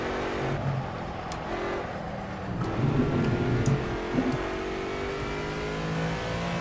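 A racing car engine in the Project Cars game revs and accelerates with a continuous rising whine and hum, steady and fairly loud from start to finish, with no talk.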